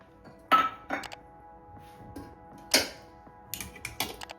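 Spoon scraping and clinking against a pot while chicken haleem is stirred, a few sharp metallic knocks spaced apart amid quiet background hum.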